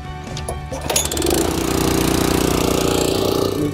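A Ryan sod cutter's engine fires up and settles into a loud, steady running drone with a rapid mechanical chatter, close by and alone.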